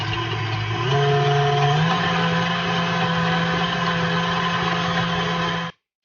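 Electric mixer whipping cream puff filling until fluffy, a steady close motor whir that shifts pitch slightly early on, then runs evenly before cutting off abruptly.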